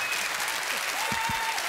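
A French television studio audience breaks into brief, dense applause, a steady wash of clapping that holds at an even level throughout, with faint voices mixed in.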